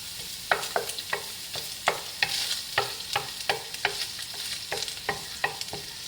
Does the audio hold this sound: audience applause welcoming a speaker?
no